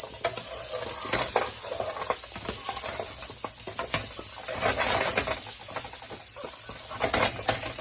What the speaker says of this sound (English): Now it's the time to cook the meatballs. And I'm going to fry them up just a little bit.